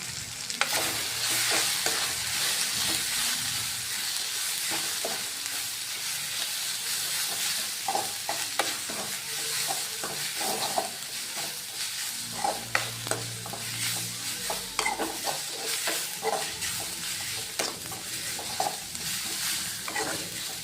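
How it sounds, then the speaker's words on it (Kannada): Chicken fries in a pan for a fenugreek chicken gravy, a constant loud sizzle and hiss broken by repeated scraping and clattering stirring strokes, close up with no voices. "ಇದಕ್ಕೆ ಸ್ವಲ್ಪ ಮತ್ತೆ ಫ್ರೈ ಮಾಡಬೇಕು"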